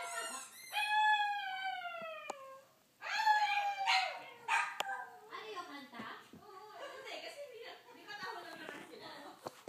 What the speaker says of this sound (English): dogs can howl, see?